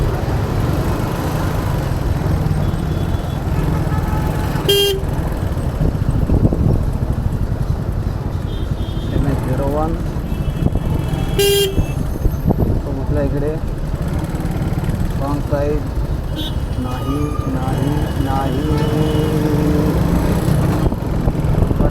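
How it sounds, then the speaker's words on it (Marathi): Constant engine rumble of heavy, jammed truck traffic on the Samruddhi Expressway at Vadape fills the scene, with a few short horn blasts and voices talking faintly over it. "या मोठ्या मोठ्या गाड्या इथे उभ्या आहेत ट्रॉफिक वाढून इथे उभे आहेत"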